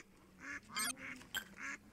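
Ducks quacking at a duck pond in the video game A Hero's Call, several short nasal quacks in quick succession, fairly quiet, with a brief synthesized speech-like sound among them.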